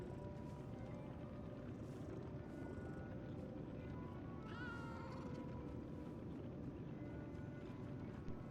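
A small kitten meows in the Lies of P video game, one short cry rising over a steady loud bed of low rumbling game ambience.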